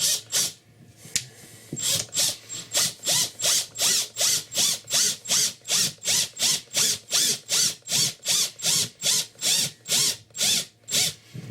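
Stainless screws are driven into pre-drilled holes in a transducer mount with a rapid, regular series of ratcheting clicks, close and fairly loud, about two per second over ten seconds, with no speech.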